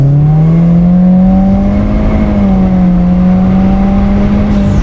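2017 Subaru WRX Premium sedan with CVT accelerating in sport mode, a loud steady engine drone with a rising and settling tone, heard from inside the cabin without talk.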